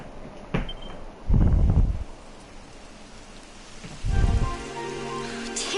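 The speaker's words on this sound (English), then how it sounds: "It would have to go and start raining, wouldn't it?" Rain falling in the video game Dragon Quest XI, a steady hiss of rainfall with two louder low rumbling bursts, no voices.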